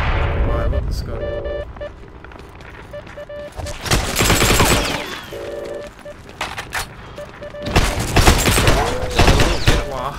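Gunfire in the Heroes & Generals game comes in loud, dense bursts separated by brief lulls, with a player's voice nearby.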